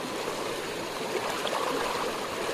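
A murky outdoor stream, its flow split into two channels along a hiking trail, rushes and burbles steadily and loudly nearby, with no one speaking.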